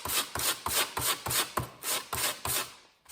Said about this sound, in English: Give me a couple seconds here on the 100 grit sandpaper